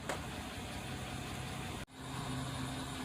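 A 2016 GMC Sierra pickup's engine idles with a steady, even rumble, running continuously at a constant level, with a brief dropout partway through.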